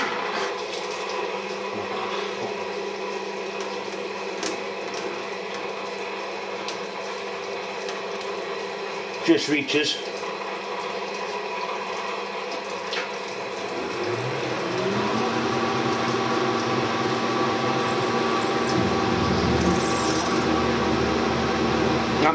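A milling cutter bites into metal with coolant flowing, giving a steady machining whir and grind, with a sharp clatter midway and a rising, fuller cutting tone in the later half; a brief spoken remark.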